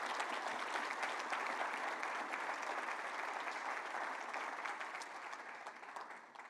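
A celebration audience gives one last round of applause for three honorees, a dense, sustained wash of many hands clapping that stays loud throughout and tapers slightly near the end.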